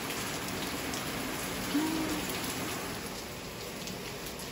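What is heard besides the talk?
heavy rain downpour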